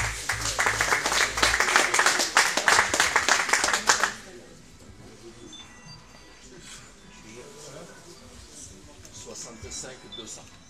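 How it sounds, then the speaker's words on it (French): An audience at a K1 European Championship weigh-in claps loudly in a dense burst for about four seconds, then the clapping stops abruptly and gives way to quieter room noise with people talking. "On peut l'applaudir encore une fois s'il vous plaît"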